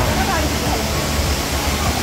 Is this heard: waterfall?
yes